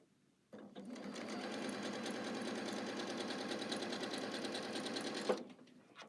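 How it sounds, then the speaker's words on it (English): A sewing machine stitching quilting fabric runs in one steady, continuous whirring burst for about five seconds, close and loud, then stops, with quiet room sound before and after. "And sewed again."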